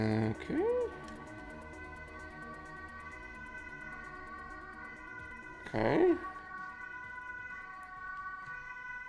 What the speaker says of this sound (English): We have some more sirens outside.